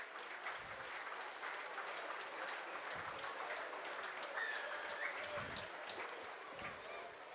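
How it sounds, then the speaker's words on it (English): Players and crowd applauding at a 2021 rugby league match against the Sheffield Eagles, a steady sustained patter of clapping filling the stadium, with a commentator talking over it. "The Rovers stand and applaud."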